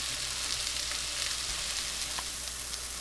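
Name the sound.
mushrooms frying and browning in a pan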